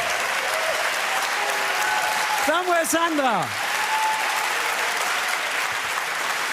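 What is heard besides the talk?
audience applause for the inventors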